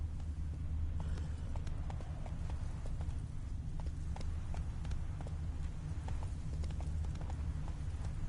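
Roach the horse gallops in The Witcher 3, hooves beating a steady, rapid clip-clop rhythm over a low rumbling ambient bed, close and continuous.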